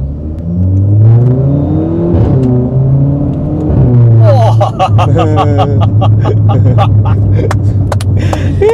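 A tuned VW Polo revs and accelerates with a rising engine note, then its exhaust breaks into a rapid run of sharp crackles and pops in the second half while people talk inside the car.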